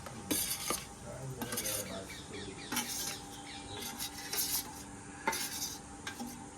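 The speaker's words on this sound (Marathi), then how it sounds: "अशा पद्धतीने आणि मग चांगलं मिक्स करायचं आपण त्याला" A spoon stirs raw mango pickle in oil inside a metal vessel, giving repeated scraping clinks and knocks against the pot at an irregular rhythm, fairly close with no talk.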